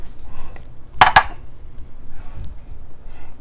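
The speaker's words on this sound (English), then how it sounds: "Give that a quick stir." A utensil clinks sharply against a bowl a couple of times while beaten eggs are stirred for pancake batter, then faint soft mixing sounds follow in a quiet kitchen.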